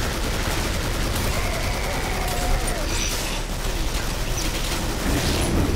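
Gunfire in the video game Killing Floor, a dense, continuous barrage of rapid shots with mechanical clatter, loud throughout, with a voice speaking over it.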